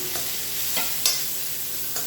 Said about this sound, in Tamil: இப்போ எல்லாத்தையுமே நல்லா வதக்கி விட்டுக்கலாம்.